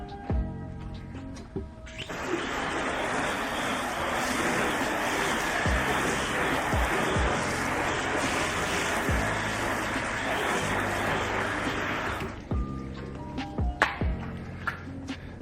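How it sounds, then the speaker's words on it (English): Water from a hose rinsing a car during detailing, a steady broad spray running for about ten seconds after a short quiet start, then cutting off with light handling noises afterward. "Let's give it a quick rinse."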